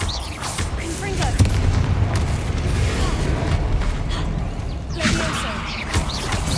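In Hogwarts Legacy, the Confringo fire spell lets out a loud, sustained burst of crackling, booming blasts with mechanical rumbling underneath, continuing for several seconds amid game combat noise.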